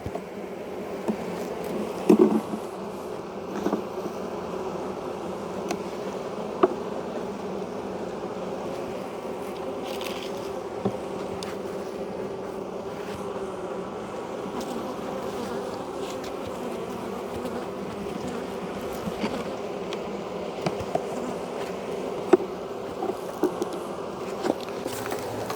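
Honey bees in January buzz steadily around their hive, a continuous droning hum with a few brief sharper passes near the microphone and no voices.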